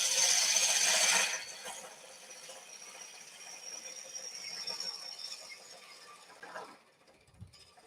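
Chisel cutting side grain while hollowing a yew vase on a wood lathe: a loud, steady scraping hiss for the first second, then a quieter, uneven scraping and rattling that fades out.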